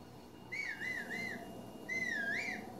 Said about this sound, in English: We're gonna whistle for our horse.